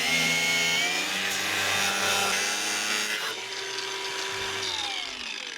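A wooden panel in a campervan built from a bus is cut through to make a ventilation hole, giving a steady close rasping saw stroke that runs continuously and shifts in tone near the end, with no talking.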